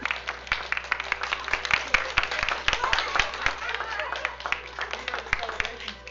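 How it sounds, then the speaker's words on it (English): A small group in a school board meeting room claps and cheers as someone walks in for an award, with scattered sharp claps and excited voices talking and exclaiming throughout. "let's all go crazy and clap our hands"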